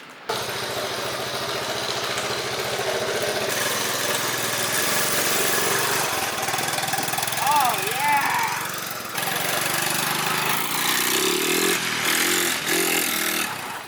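A trike engine idles and revs out in the snow, a close, loud mid-pitched motor drone that rises and falls, with people talking over it.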